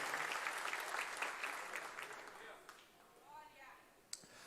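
A church congregation claps in praise, dense applause filling the first half and then thinning out, followed by a short stretch of speech and a single sharp clap near the end.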